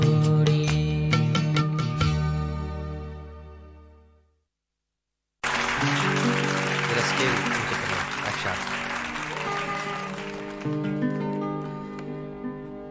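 Audience at a ghazal concert, the song's final notes fading into a short silence, then a burst of loud, sustained applause with cheering that carries on to the end.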